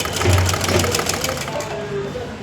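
Sewing machine stitching the lining of a blouse neck piece, a close rapid mechanical whir and rhythmic needle clatter running steadily, then easing off toward the end.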